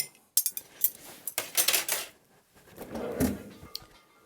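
A cocktail stirred with a bar spoon in a mixing glass: close, irregular clinks and scrapes of ice and metal in short bursts with brief pauses, then a softer rushing swirl, no talk.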